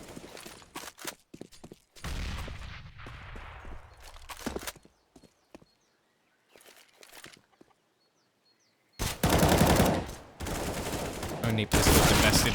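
Pistol gunfire during a Counter-Strike match on the Inferno map, with sharp irregular shots and quick bursts broken by quiet gaps and short footstep-like clatter, ending in dense loud firing.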